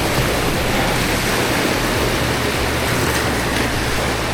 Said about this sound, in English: just in time, we have some nice waves coming in.